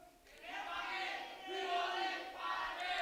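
Crowd of young people at a youth church worship service shouting a call-and-response chant together, three loud sustained bursts of massed voices in a reverberant hall.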